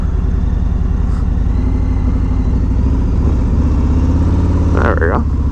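A 2021 Harley-Davidson Street Glide rumbling along in a steady, loud, close engine drone throughout, with a brief higher squeal near the end.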